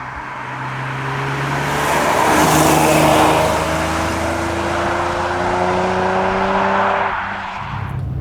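Jaguar XJR-6 with a five-speed manual gearbox revving hard while driving, the engine note climbing and falling through the revs, loud and close, with no talk over it.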